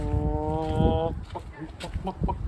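A chicken gives a short drawn-out call followed by a few soft clucks, close by, with rustling around it.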